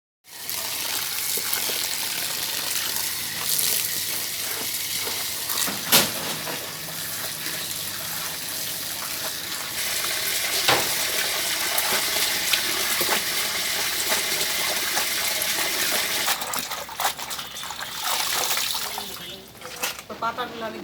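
Kharkon leaves being washed under a running tap, a steady close rush of water with splashes and handling sounds throughout, briefly easing near the end.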